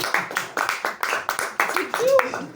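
Rhythmic hand clapping from a stand-up comedy audience, about a dozen quick claps from a small group, with voices overlapping.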